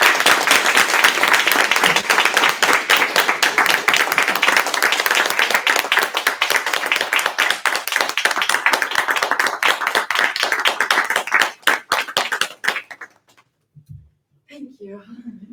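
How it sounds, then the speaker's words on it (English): Long, dense applause from an audience following a dissertation defense talk, loud and sustained for about twelve seconds before thinning into scattered claps and stopping, with a brief voice afterward. "It's an extra long applause for a wonderful talk"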